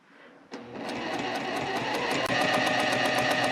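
A sewing machine stitches a quilt border seam, starting with a thump and then running at a fast, even mechanical rhythm, close and steady, with no talk.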